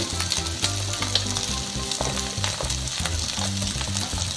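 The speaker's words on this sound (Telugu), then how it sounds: "ఒక్క నిమిషం పచ్చివాసన పోయేదాకా వేయించుకోవాలి" Spices for an egg curry fry in a pan, making a loud, continuous sizzle with a rhythmic scrape of stirring running throughout and no voices.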